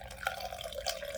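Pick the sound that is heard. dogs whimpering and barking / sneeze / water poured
water poured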